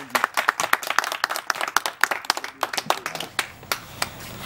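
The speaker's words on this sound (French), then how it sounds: "Applaudissez." Small group clapping at a community meeting, loud, irregular claps close by that thin out toward the end, with no speech.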